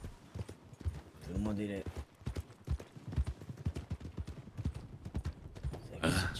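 Horse hooves clip-clop in a steady rhythm close by while people chat in French over them throughout.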